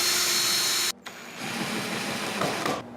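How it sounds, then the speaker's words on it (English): A power drill bores pilot holes into pallet wood, a loud, close, steady motor whine that stops abruptly for a moment, then starts again and runs on before cutting off near the end. "drill some pilot holes into the pallet wood before you screw into it"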